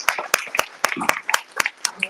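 An audience at a demo day claps: sharp, irregular hand claps from a modest crowd, loud and close, repeating quickly throughout.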